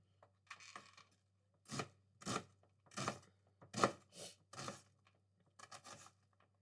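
Knife chopping onions for a beef ragu, heard as several separate bursts of crisp cutting strokes, fairly close and clear, with short pauses between groups and no talking.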